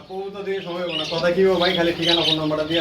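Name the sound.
birds squawking at a dove and budgerigar shop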